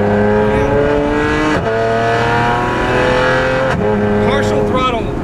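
A 600 HP BMW N54-powered Z4 DTM race car on 335 rear tires accelerates, its engine note climbing steadily through gears with brief drops at shifts, loud and close inside the cabin, with a voice faintly underneath.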